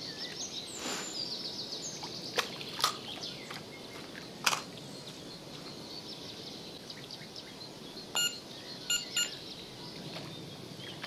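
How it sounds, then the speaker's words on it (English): Electronic bite alarms from a carp fishing session in Fishing Sim World chirp in short, faint bursts, a few single beeps then a quick cluster near the end, over a soft outdoor bed of birdsong and ambience. "You got the beeping. Yeah, a bit of the old beeping action."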